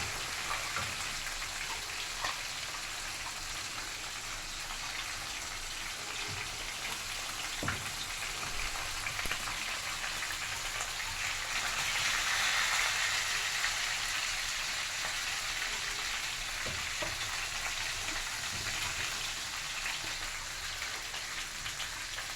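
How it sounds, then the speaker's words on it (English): Chopped onions frying in oil left over from frying fish for a fish sauce, a steady close hiss and crackle like rain that swells briefly midway, with no talking. "added our chopped onions in the same oil that we use to fry the fish"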